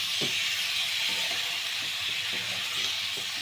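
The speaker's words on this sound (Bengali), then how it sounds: "আদা বাটা আর টমেটো কুচি দিয়ে এটাকে ভালো করে আপনার নাড়াতে হবে।" Ginger paste and chopped tomato being stirred in a hot frying pan, a steady close sizzle of frying with soft scraping strokes of the spoon at a slow, repeating rhythm.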